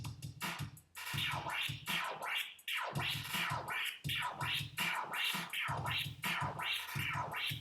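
Scratching on a Hercules JogVision DJ controller's jog wheel, played as eighth notes. Repeated rhythmic scratch sweeps run close and clear, with short gaps between the strokes.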